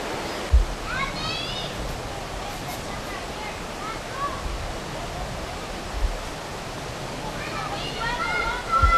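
A river runs past a park trail at Jones Bridge Park, producing a steady, broad outdoor rush of flowing water with brief distant voices and small knocks mixed in.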